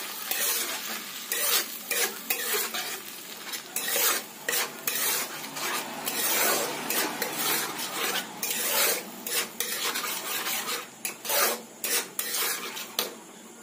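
Spice masala for potato dum with chorbi frying in oil in a pan while being stirred, a steady sizzle broken by repeated scraping and rasping strokes of the spoon, close and fairly loud with no talking.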